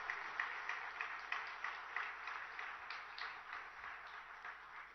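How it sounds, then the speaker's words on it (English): Steady applause from an audience at a startup facility inauguration, a dense wash of clapping that holds for several seconds and slowly thins toward the end, with no voices over it. "Can we have a huge round of applause?"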